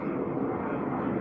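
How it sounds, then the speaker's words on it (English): Jet airplane passing over a garden: a steady, fairly faint broad roar that stays continuous and even throughout, with no speech. "There's a jet. That's annoying."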